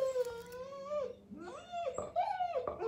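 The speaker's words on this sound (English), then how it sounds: "That dog is ate up." A female dog howls and whimpers in drawn-out, wavering cries that rise and fall, close and alone.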